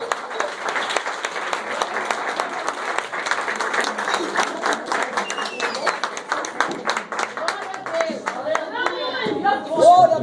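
A church congregation claps in praise during an anniversary service, a dense, steady wall of applause that runs throughout, with crowd chatter mixed in and a voice rising near the end.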